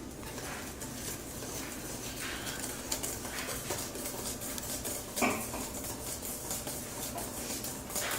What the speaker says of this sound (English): Now we mix slowly for 30 seconds, then fast.